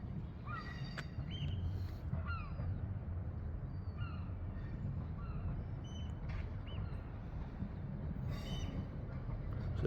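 A train idles and rumbles at Stranraer railway station, a low continuous, fairly distant drone with faint metallic squeals and bird calls over it.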